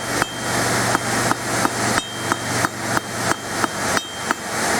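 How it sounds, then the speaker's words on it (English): A blacksmith hammers a steel bracelet cold, about a dozen sharp metallic hammer blows in a steady rhythm, close and loud, ringing between strikes with no talk. "I can hammer it when it's still kind of cold like this"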